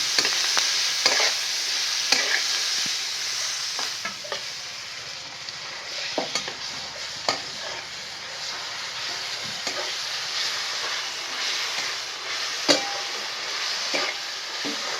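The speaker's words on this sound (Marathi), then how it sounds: "आधी तेल टाकून कांदा चांगला भाजून घ्या" Onion frying in oil in a pan for tomato chutney, with a steady bright sizzle and repeated scraping stirs and spoon knocks throughout, near and alone without voices.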